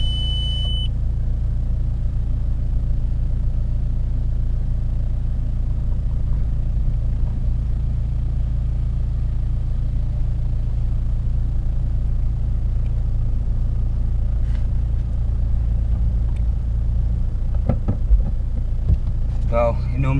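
A Skoda Fabia vRS with a 02M gearbox rumbles steadily from inside the cabin on a test drive, a low continuous engine and road drone with a brief beep at the start.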